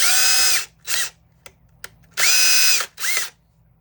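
A freshly cleaned DeWalt DCD780 cordless drill is triggered in short, close bursts, whirring up to a high pitch and winding down, with two longer runs and two quick blips and brief silences between them.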